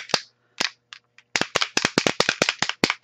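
A Color Shine spray bottle with a mixing ball is shaken hard. The ball rattles in sharp, close clacks: a few separate shakes at first, then a fast steady run of loud rattles with no talk.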